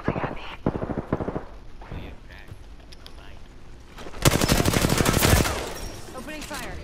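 Video game gunfire in a shooter match: bursts of rapid automatic fire, first in short clusters, then a loud sustained volley near the end, with a player talking over parts of it.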